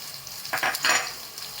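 Onion with whole spices like cloves, green cardamom, star anise and cinnamon frying in oil for prawn rice, a soft sizzle with a couple of quick stirring scrapes, close and brief.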